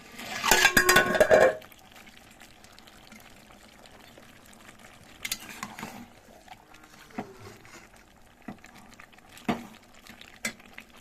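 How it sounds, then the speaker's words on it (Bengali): Chicken curry stirred in a pot, a loud clatter of spoon against metal at first, then sparse scrapes and knocks over a quiet background. "তারপর এইভাবে একটু নেড়ে চেড়ে দেবো"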